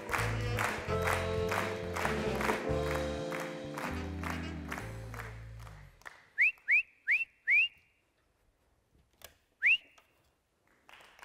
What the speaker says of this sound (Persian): چرا سوت میزنی؟